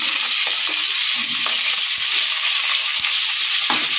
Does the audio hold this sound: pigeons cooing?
no